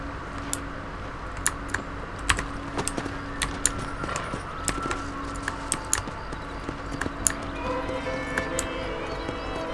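Typewriter keys clacking in an irregular run as a game is saved in Red Dead Redemption, sharp taps layered over steady background game noise.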